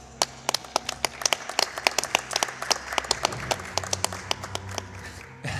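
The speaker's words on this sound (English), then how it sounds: "I think Pessimism was trying to clap" Scattered clapping from an audience at a Resident Evil Code Veronica X speedrun event, a string of sharp irregular claps over a low background murmur.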